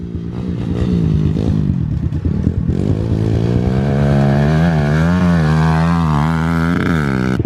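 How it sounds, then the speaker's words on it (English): A dirt bike rides a small backyard track with a few little jumps, its engine revving and dropping in pitch as it throttles up and backs off, loud and nearby with no talk. "So we're just hanging out here, watching Spencer ride"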